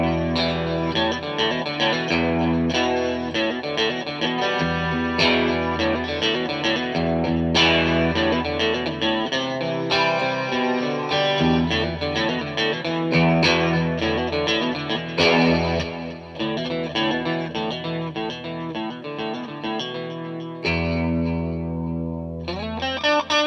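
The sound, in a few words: electric guitar clean tones through Fender Mustang III amp preset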